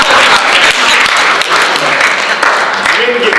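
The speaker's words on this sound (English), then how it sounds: "Let's all applaud the man for listening." Audience applause fills a conference panel on race and internet comedy, a dense, steady wash of many hands clapping at close range for over three seconds, with a few faint voices beneath it.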